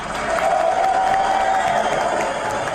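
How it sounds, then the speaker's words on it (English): On a casual talk show, the small group present claps and cheers, a brief mix of scattered clapping, whoops and crowd noise with a held tonal voice-like sound running through it. "Clap it up."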